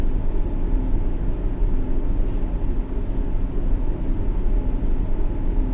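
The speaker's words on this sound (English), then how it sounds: "Now you can only hear the engine, you don't hear any other sounds, only the engine." Steady low rumble of a train engine in the World of Subways 3 game on the Hammersmith & City line, a continuous drone heard alone with no other sounds.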